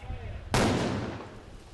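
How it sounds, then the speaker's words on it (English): Controlled explosion of unexploded cluster bomb duds: a single sudden loud blast with a broad roar that decays slowly over about a second, following a brief stretch of background speech. "A controlled explosion is the only way to neutralize the duds that fail to explode"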